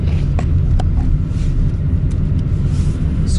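An automatic LADA Granta accelerates, with a loud, steady low engine and road rumble heard from inside the cabin. The drone is continuous, with a few faint clicks above it.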